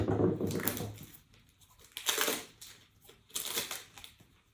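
Cards from an ASCENDIA board game prototype being handled and shuffled, close crisp riffling and sliding bursts in three separate passes with short quiet gaps between.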